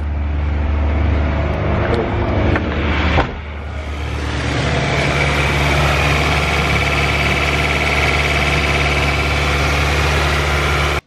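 A car engine fitted with a new downpipe and dump tube starts after a few knocks and settles into a loud, steady, deep idle with a constant low rumble and no voices.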